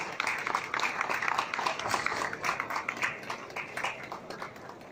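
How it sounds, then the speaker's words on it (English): Applause for artisan jewellery craftsmen on stage at a Chennai jewellery exhibition: a steady patter of many hands clapping at moderate volume, easing off slightly toward the end. "So a round of applause for each one of them,"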